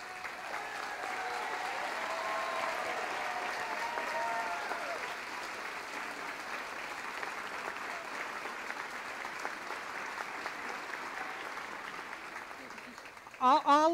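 An audience at an awards ceremony honoring people of color gives sustained, even applause to the honorees for several seconds, with a voice briefly heard at the very end.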